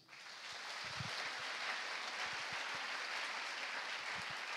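A church congregation claps steadily and loudly for several seconds, a dense even wash of applause with no voices over it.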